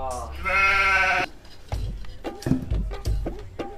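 A goat gives one clear, quavering bleat up close, followed by a stretch of talk and handling noises with thumps over a low background.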